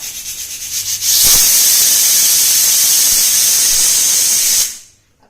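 A pressure cooker cooking pav bhaji lets out a loud, steady whistle of escaping steam, preceded by a few short puffs, then holding a sustained piercing hiss for several seconds before cutting off abruptly.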